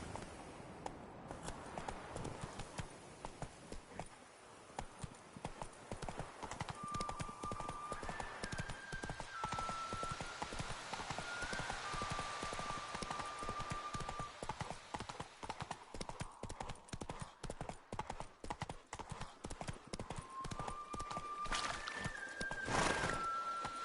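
Roach, the horse in The Witcher 3, gallops with steady, fast clip-clopping hooves throughout, close and continuous over game ambience, with faint tonal music cues and a brief whinny-like sound near the end.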